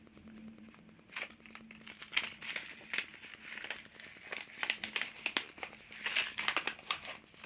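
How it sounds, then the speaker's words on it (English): A paper seed packet is opened up close, producing a run of loud, irregular crinkling and tearing rustles that come in bursts of handling noise. "I got my seed packet, and I'm going to open it and just get 1 or 2 seeds out"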